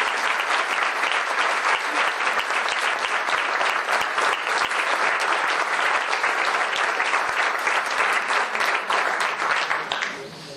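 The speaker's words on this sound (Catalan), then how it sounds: "des d'aquí li enviem un aplaudiment" An audience at an Esquerra Republicana election list presentation in Vilafranca breaks into steady, sustained applause of many hands clapping, fading slightly at the end.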